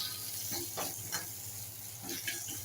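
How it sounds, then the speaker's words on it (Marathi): Curry leaves dropped with asafoetida into hot oil in a pan with the gas flame off, giving soft crackling sizzle with a few brief bursts of spatter and stirring, close and fairly quiet, no talk. "आता ह्याच्यात कढीपत्त्याची पानं घालायची आहेत"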